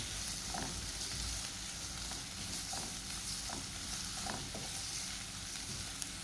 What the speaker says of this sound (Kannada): ಇದನ್ನೀಗ ಗೋಲ್ಡನ್ ಬ್ರೌನ್ ಕಲರ್ ಬರುವ ತನಕ ಫ್ರೈ ಮಾಡ್ಕೊಳ್ಬೇಕು